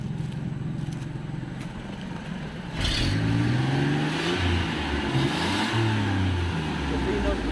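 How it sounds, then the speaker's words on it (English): A car engine runs after maintenance, a steady loud idle that rises into revving partway through, with people talking under the engine noise. "hopefully this has the engine running better"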